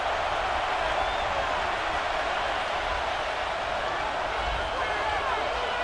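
Steady stadium crowd roar from an EA Sports football video game, a New England vs Houston Texans matchup late in the fourth quarter, a dense continuous wash of noise with no breaks.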